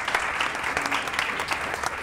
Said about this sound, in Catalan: l'aplaudiment que ja t'estan donant